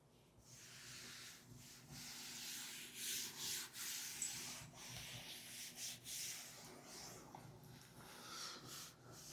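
Erasing writing from a board during a class 12 maths lesson, a steady close rubbing and scrubbing sound with rhythmic strokes lasting several seconds, fairly soft, with no talking.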